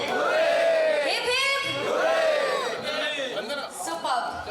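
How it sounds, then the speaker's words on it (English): A crowd at a phone unboxing event for Oppo roars hooray in unison, several loud group shouts rising and falling one after another, with a few scattered voices between them. "let's hear it for Oppo. 3 cheers, hip hip."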